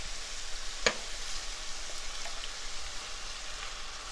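Beef stock poured into a hot pan of sausage gnocchi, giving a steady crackling sizzle with a brief splash near the start, close and moderately loud throughout.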